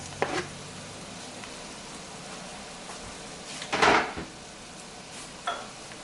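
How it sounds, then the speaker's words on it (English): Garlic dropped into a hot frying pan for leftover turkey soup, with a short burst of sizzling and clatter of pan and utensil near the middle, plus a few lighter knocks, close by with no talk. "In goes the garlic."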